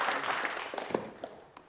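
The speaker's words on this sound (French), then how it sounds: "On peut l'applaudir, les gars." Studio audience on a French variety show applauding a guest, a short, fairly soft burst of clapping with a few voices mixed in, tapering off toward the end.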